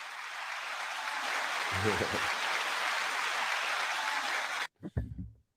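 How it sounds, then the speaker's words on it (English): Audience applause on a hip hop culture panel show, a steady wash of clapping for several seconds that cuts off abruptly, followed by brief voices. "9-second applause to you all"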